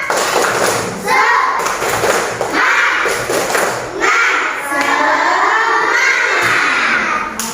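A group of children claps in a rhythmic pattern, with bursts of sharp claps and thuds alternating alongside chanting voices.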